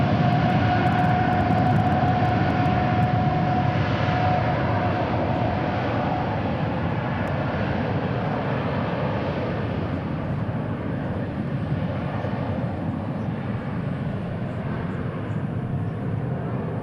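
A heavy jet airliner departs at DFW airport, a broad, steady engine roar heard fairly close that holds for the whole stretch and fades slightly toward the end, with no voices over it.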